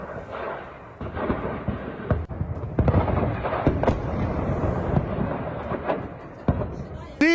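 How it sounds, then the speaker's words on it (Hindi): Israeli air strike bombing in Syria heard as a dense series of booming blasts and sharp cracks, rolling and overlapping at a distance, with a couple of louder close impacts. "इजरा में मिलिट्री हेडक्वार्टर पर बमबारी की गई।"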